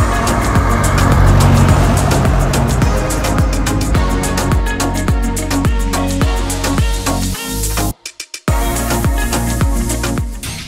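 A vintage car engine revs hard and loud, with repeated rising-and-falling throttle blips in a choppy rhythm, briefly cutting out near the end before roaring again.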